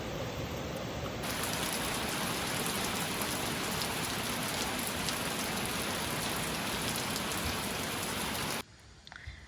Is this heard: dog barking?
no